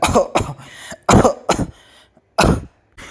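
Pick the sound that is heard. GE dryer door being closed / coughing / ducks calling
coughing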